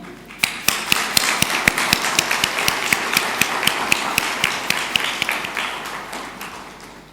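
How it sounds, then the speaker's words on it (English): An audience at a conference on market opportunities and risk solutions applauds the guest of honor with brisk, steady clapping that stays even throughout and fades slightly near the end. "Let us applaud to the guest of honor"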